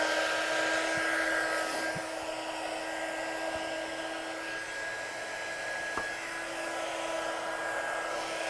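A craft heat gun blows hot air while warming up to melt embossing powder on stamped artwork, giving a steady, close whooshing whir that holds constant throughout with a faint tonal whine.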